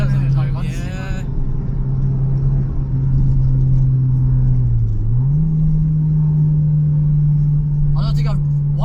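Honda Civic EK hatchback, rated at 160 bhp, holds a steady, loud engine drone while driving, with a brief dip in pitch as it shifts or eases off before settling again; people talk briefly over it near the start and end.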